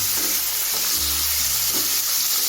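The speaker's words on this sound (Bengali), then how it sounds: "মাংসটা আমি এভাবে চারের থেকে পাঁচ মিনিট একটু তেলের মধ্যে ভেজে দিচ্ছি" Meat frying in oil in a pan after garlic, a steady loud broadband sizzle running throughout with occasional low tonal hums in the background.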